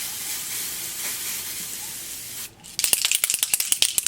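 An aerosol spray can hisses steadily at a wig, then sputters in a rapid series of short bursts as it runs nearly empty.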